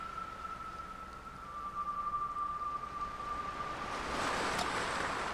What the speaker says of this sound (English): The sound of the waves has a unique quality to it.